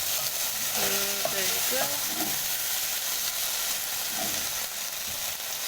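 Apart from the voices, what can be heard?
mixing chicken curry with mustard and black pepper in a pan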